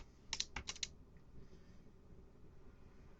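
A command is typed on a computer keyboard, a quick burst of about half a dozen crisp key clicks, then a quiet stretch with only faint room hiss, close but soft.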